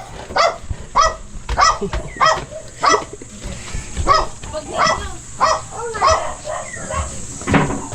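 A dog barks repeatedly in a steady series of sharp, close barks, with a few overlapping yelps toward the end.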